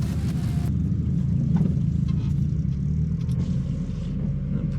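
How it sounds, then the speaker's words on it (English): Mazda Miata easing into a parking spot at a rainy cars-and-coffee meet, a steady low engine rumble and road hum up close, with faint background noise and no voices. "We're going to park next to the other Miata."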